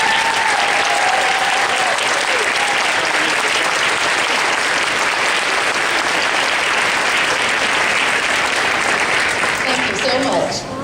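Sustained applause from the audience at an elementary school new building dedication ceremony, honoring students as they stand; dense, loud, steady clapping that continues for the whole stretch before tapering slightly at the end.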